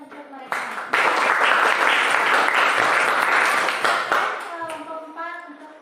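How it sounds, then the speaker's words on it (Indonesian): A classroom audience bursts into loud, steady clapping for a student group's presentation, sustained for a few seconds before fading as a voice begins speaking. "Mari kita berikan tepuk tangan untuk mereka."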